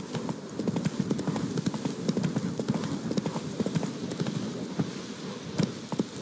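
Horse hooves clip-clopping at a rapid gallop in the video game The Witcher 3: Blood and Wine, a dense, continuous rhythmic pounding up close.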